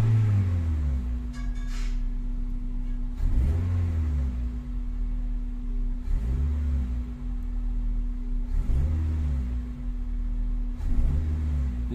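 A car engine revs up repeatedly, rising and falling in four or five surges about every two to three seconds over a steady low hum, loud and close with no talking. The engine has a tight throttle body being adjusted.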